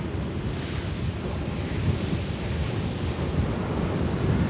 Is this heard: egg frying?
no